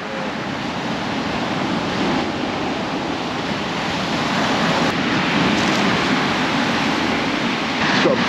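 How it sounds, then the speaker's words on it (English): Waves break steadily on an exposed shore while wind roars across the microphone, a loud, unbroken wash of surf and gusts with no voices heard. "breaking waves out there"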